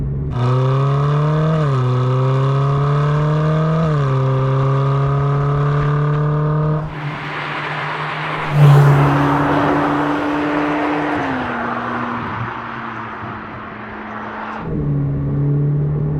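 Ferrari 458 Speciale V8 revving hard through the gears with its exhaust valves opening, the engine pitch rising in repeated climbs, then a louder, rougher, rasping blare and a hot roar, heard close from inside with no talk.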